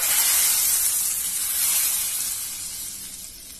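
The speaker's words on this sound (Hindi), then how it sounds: "और अब इसके ऊपर जो हमने तड़का बनाया था वो डाल देंगे।" A loud, hissing sizzle bursts up close as hot oil tempering is poured onto dhaba-style dal, then gradually settles and softens.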